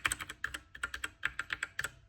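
Computer keyboard keys are pressed in an uneven run of crisp, close clicks, about a dozen sharp taps heard alone without talking.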